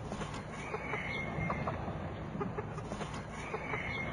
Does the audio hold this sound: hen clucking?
yes